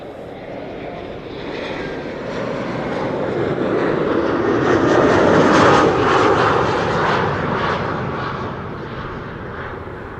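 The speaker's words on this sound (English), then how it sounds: "There was another BA in the background that was taxiing towards one of the runways, probably the Polderbaan, to take off." British Airways airliner taxiing toward a runway at Schiphol airport, a loud jet engine roar that swells to a peak midway and then eases, with a broad rumbling whine.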